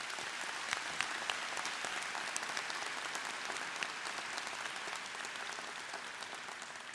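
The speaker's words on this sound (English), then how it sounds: "And I really would like a round of applause for them for that." Sustained audience applause at a Kendall College graduation ceremony, a dense, steady wash of many hands clapping for about seven seconds, fairly distant and even in level without spoken words.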